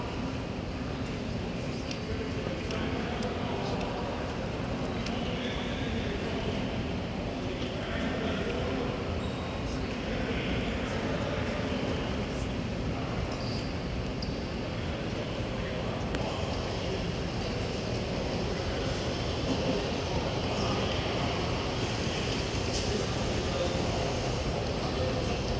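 Indoor ambience of Moynihan Train Hall, the Amtrak station in New York, a steady reverberant wash of crowd murmur, footsteps and distant clatter, with people talking throughout.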